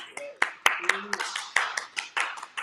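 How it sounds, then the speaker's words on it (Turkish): Several people clap during a Turkish live stream, a scattered run of sharp, uneven hand claps mixed with voices talking close by. "Biz de alkışlıyoruz buradan."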